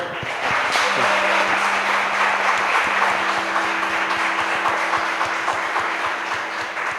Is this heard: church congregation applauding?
yes